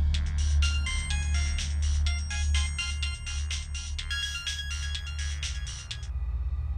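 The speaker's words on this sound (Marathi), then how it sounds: "2 दिवसानंतर रात्री 12 वाजता सिद्धीच्या फोनची रिंग वाजली" A mobile phone ringtone plays its repeating electronic melody at midnight in a narrated horror story, bright and insistent over a low steady hum, stopping shortly before the end.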